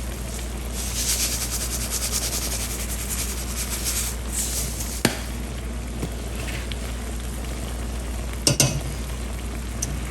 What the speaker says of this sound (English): I'm just going to continue to simmer this for just a few more minutes